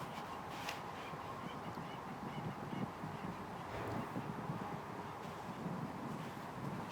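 A goose honks repeatedly on an outdoor disc golf course, quiet and somewhat distant, with short calls spread over steady background noise.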